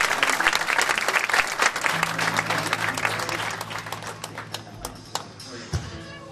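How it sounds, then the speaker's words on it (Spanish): A church congregation applauds at a baptism, a steady wash of clapping from a crowd indoors that thins out toward the end, with a voice speaking briefly over it. "Fuerte el aplauso para Facu."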